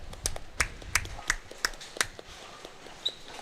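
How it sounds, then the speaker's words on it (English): A person claps about seven times at a bowling tournament, sharp close claps in a quick, slightly uneven rhythm that stop after two seconds, followed by a faint distant click. "I'm going to clap"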